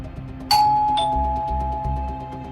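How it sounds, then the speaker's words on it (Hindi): Doorbell ringing indoors in a dramatized crime scene, a clear two-tone ding-dong chime close by and ringing out, with no talking. "लोकेंद्र ने डोरबेल बजाई"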